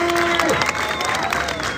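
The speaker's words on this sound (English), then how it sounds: "People clap." Audience applause at an outdoor Easter arts festival magic show after a knife-throwing trick, a short burst of clapping from a crowd with a voice and a tonal note over it near the start.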